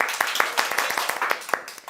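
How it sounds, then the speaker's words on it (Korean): Scattered hand clapping from a small audience at a mukbang show taping in Sangam, a handful of sharp, irregular claps, fairly close, over about two seconds. "박수"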